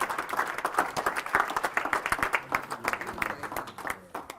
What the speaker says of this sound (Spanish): Vamos a aplaudirlo, ¿no es cierto?